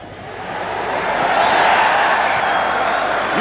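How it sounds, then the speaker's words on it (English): A stadium crowd at Pukekohe roars after a successful kick during the 1989 Counties versus France rugby match. The broad, distant cheer swells steadily and holds at full volume. "there'll be an almighty cheer goes up around Pukekohe"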